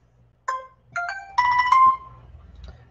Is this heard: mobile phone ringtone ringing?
yes